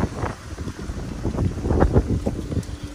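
Gusty wind buffets the microphone outdoors beside a 2013 Audi A6 Prestige, a close rumbling roar that surges and fades irregularly with no speech over it.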